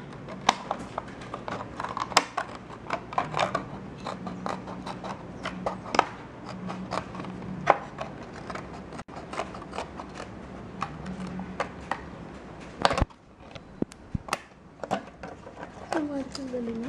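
Scissors cut a rough drone canopy for an FPV quadcopter, making a steady run of sharp, close snips and clicks while a person talks over much of the cutting.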